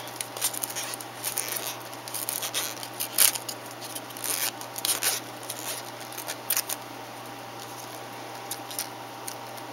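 Floral tape is wrapped around the stem of a handmade paper flower, giving soft, uneven crinkling and rubbing rustles with a few sharper crackles, steady and close throughout.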